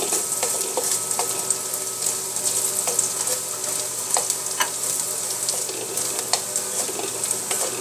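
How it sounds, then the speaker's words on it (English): Garlic sautés in a hot pan for pancit canton chow mein, giving a steady, close sizzle with occasional small clicks of stirring throughout. "Saute the garlic for about 30 seconds until it turns a little bit brown."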